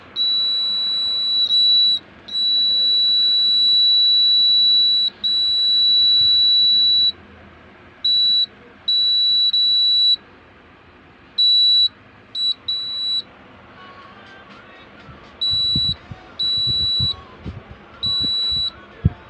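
A small buzzer on an LDR light-sensor module gives loud, high, piercing beeps, some long and steady, others short bursts, with brief silent gaps between them and faint handling noise underneath.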